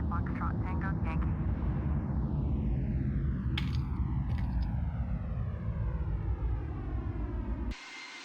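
Airplane engine in a flight simulator game, a steady broadband drone that runs throughout, with falling whine tones sweeping down across it. It cuts off abruptly near the end.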